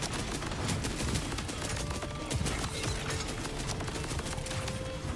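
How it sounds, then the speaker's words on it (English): Rapid, dense gunfire from a video game weapon in sniper rifle mode, a steady barrage of loud shots packed together without pause, set against continuous in-game battle noise. "let's try sniper rifle mode"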